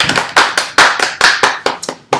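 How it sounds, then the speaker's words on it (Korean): Close, loud hand claps from a small group of real estate auction trainees in a classroom, roughly ten distinct smacks in an uneven rhythm, each with a short decaying tail. "박수"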